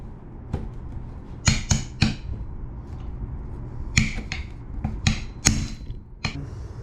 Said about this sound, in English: I take my hammer and I tap on top of it just like that.